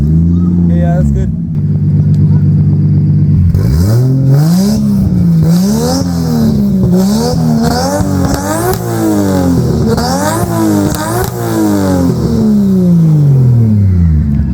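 Nissan Skyline R33 fitted with an HKS exhaust revs repeatedly, a loud, rising-and-falling engine roar with blips climbing and dropping in quick succession, recorded up close with a voice briefly over the start.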